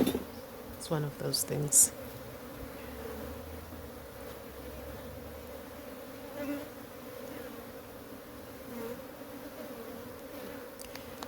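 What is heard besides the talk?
honey bees buzzing around an open beehive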